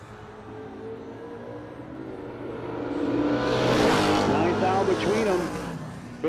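A drag race pits a Mustang against a Mopar 1973 Duster, engines building from a distant drone to a loud revving roar as the cars pass close, with an announcer talking over it.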